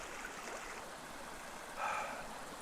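A creek flows beneath a small footbridge on the Manistee River Trail in a steady, soft rushing wash, with a brief brighter splash of water partway through; no voices are heard.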